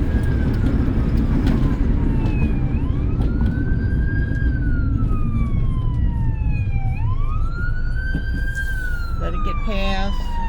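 A fire truck siren wails past a moving car, rising and falling in long sweeping tones over steady road rumble, loud and continuous, with a final burst of quicker yelping near the end.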